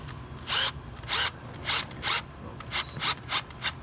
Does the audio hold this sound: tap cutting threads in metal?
yes